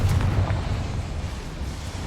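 A Confringo blasting spell explodes in Hogwarts Legacy, a deep rumbling boom that sustains and slowly fades over two seconds, alone with no talking.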